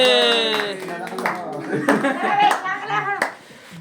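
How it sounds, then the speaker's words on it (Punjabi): Hands clapping at a birthday cake cutting for a young child: brisk, close clapping mixed with loud voices talking, a voice and light chuckling. "ਕੇਕ ਕੱਟ ਦਿੱਤਾ ਗਿਆ ਭਾਈ ਮਾਰੋ ਤਾੜੀਆਂ ਜ਼ੋਰਦਾਰ ਬਾਈ ਸਾਰੇ ਜਣੇ"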